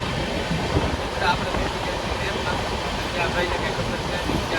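Inside a moving Bandra Terminus superfast express train, a steady rumbling hum of wheels and carriage runs throughout at even loudness, with faint rhythmic rail clatter and no speech.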